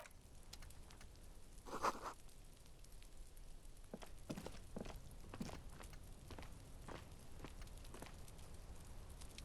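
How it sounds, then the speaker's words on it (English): Footsteps of someone walking room to room inside a house in the video game Disco Elysium, a series of soft, scattered thuds spread across the stretch, faint and muffled over a low background hum. "You hear someone inside, walking from room to room."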